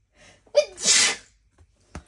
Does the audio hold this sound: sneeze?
yes